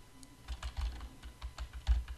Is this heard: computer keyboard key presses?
yes